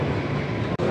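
Shenzhen Metro Line 9 train at Renmin South station, a brief, even rumble of rolling carriages with a momentary dip near the end.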